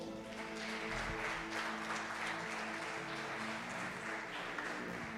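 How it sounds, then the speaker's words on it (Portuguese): A church congregation at a Portuguese-language service applauds the Lord. The soft, continuous clapping is faint and distant and mixes with sustained keyboard chords and a low murmur. "dá um aplauso ao Senhor."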